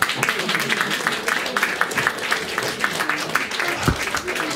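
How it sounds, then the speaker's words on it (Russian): An audience applauds a veterans' choir walking onto a stage at a club concert, giving dense, sustained clapping that fills the hall, with a voice speaking over it. "Аплодируем им."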